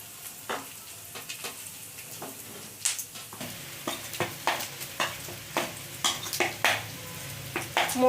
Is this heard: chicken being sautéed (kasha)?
yes